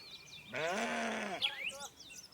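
Goats in a flock resting on a farm beside sugarcane fields give one drawn-out bleat followed by a few shorter calls, heard at moderate distance with faint bird chirps around.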